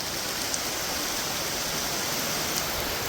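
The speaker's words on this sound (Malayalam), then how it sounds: "പെട്ട് ഒടുക്കത്തെ മഴയാണ്" Heavy rain pours in a dense, steady hiss near the Marmala waterfall in Kerala, continuous and even, with no voices.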